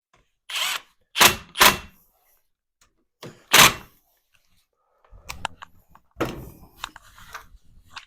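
Small brake disc retaining screws are refitted on a Renault Clio 2, producing a few sharp, separate metallic clicks and tool bursts with quiet gaps between them, followed by softer scattered handling clatter nearby, with no voices.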